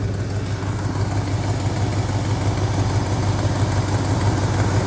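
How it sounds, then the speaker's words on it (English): A 6.0 LS V8 idling steadily with a small exhaust leak, giving a loud, constant low rumble with no pauses and no voices. "Don't mind that little exhaust leak."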